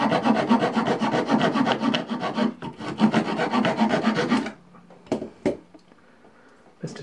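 Leatherman Rebar multitool saw cutting a small wooden stick, loud rhythmic rasping strokes back and forth for about four seconds, then stopping, followed by a few quieter knocks and handling sounds.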